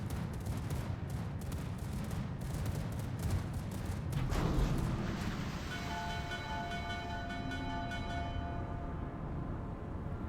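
Rapid anti-air gunfire rattles on in a naval battle in the game Vanguard, a dense continuous stream of bursts under a steady hum, with a faint tonal whine rising in the later part.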